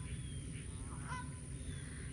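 A flock of ducks calls faintly in the distance, a few soft honking cries rising over a low outdoor rumble.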